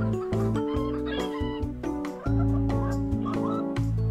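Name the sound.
chickens clucking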